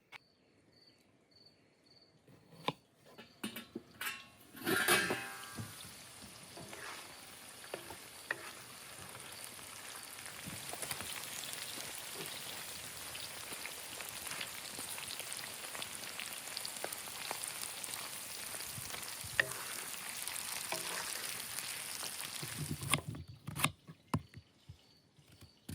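Onions fry in a pan in a Ukrainian village kitchen, a steady close sizzle that swells after a loud clatter as they go in, then crackles evenly before stopping abruptly.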